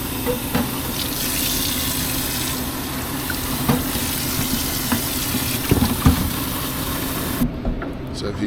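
A water tap runs steadily into a bottle at a late-night truck stop during a Peterbilt haul from Massachusetts to New Jersey. The close, continuous gushing hiss lasts several seconds with faint clatter, then cuts off near the end.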